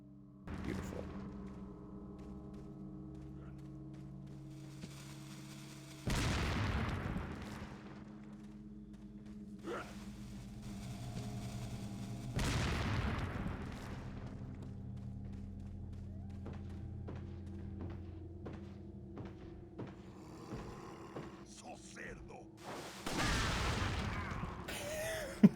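Grenade blasts in a Resident Evil game land as several broad, booming bursts spaced seconds apart over a quiet humming background, with faint thuds in between.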